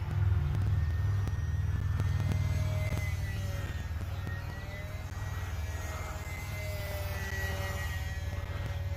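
An E-flite Cessna 182 RC airplane flies at full throttle, its electric motor giving a thin whine that drifts in pitch as it passes, heard at a distance over steady low wind rumble.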